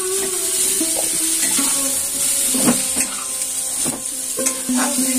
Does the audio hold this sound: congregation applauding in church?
no